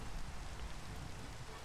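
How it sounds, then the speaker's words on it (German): Heavy rain pouring down in Minecraft, a steady, even hiss of dense rainfall at low volume with no other sounds. "Es regnet wie ein Ström."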